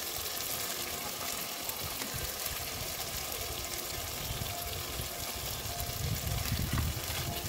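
Ground spices with turmeric, cumin, ginger, garlic, chili and chicken masala frying in oil, a steady dense sizzle holding evenly throughout with no talk.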